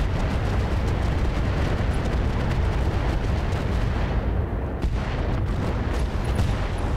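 Mech weapons firing improved ammunition in RogueTech BattleTech, a dense, continuous barrage of booming impacts and gunfire rolling on for several seconds, loud and close, with no talking.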